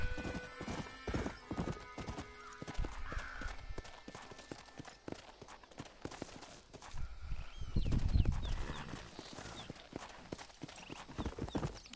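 Hoofbeats of a galloping horse in the Western video game Red Dead Redemption, a dense run of clip-clop strikes with a whinny mixed in, steady and fairly loud, with music and game sounds underneath.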